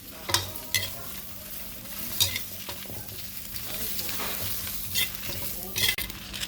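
Pork bones or similar ingredients being dry-roasted and stirred in a pan give a steady sizzle, with repeated sharp scraping strokes of a utensil at irregular intervals. The sound is close and clear, and no one talks.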